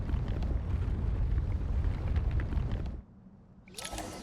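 A bomb blast in Genshin Impact: a heavy, dense rumble that fills the first three seconds, then drops to a quiet lull before a brighter noise burst returns near the end.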